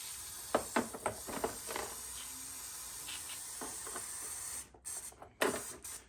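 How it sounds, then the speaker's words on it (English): Brake cleaner is sprayed onto the front brakes of a Hyundai i10 in a series of short, close hissing bursts of varying length, ending with a couple of sharper spurts. "So we'll give it a douse with the brake cleaner."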